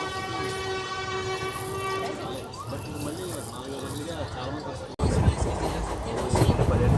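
The Simhadri Express pulls out of Rajahmundry with a long sustained horn blast, then the clatter and rumble of the moving train rise sharply and stay loud and close.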